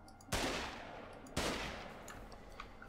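Two loud bolt-action rifle shots in the video game Osiris: New Dawn, each a sharp crack with a long decaying tail, about a second apart, followed by faint clicks.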